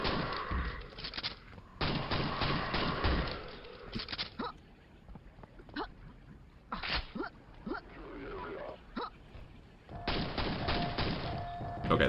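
Pistol fire in the Quake Brutalist Jam 3 map pack: a series of sharp, separate shots with game noise between them, heard close and at a moderate level while a person talks over parts of it.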